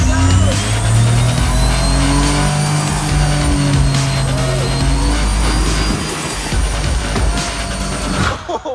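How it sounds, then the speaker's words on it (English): A motorboat engine drones loudly and steadily as the boat drives across a lake, with wind and hull noise, a few people talking over it, and an abrupt drop near the end. "I wanted to just drive the boat as close as I could to our next stop"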